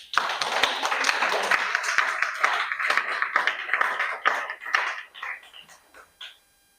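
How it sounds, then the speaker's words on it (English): A debate audience claps for itself in a sustained burst of dense applause that thins into scattered claps and fades out near the end. "Yeah, clap yourselves harder,"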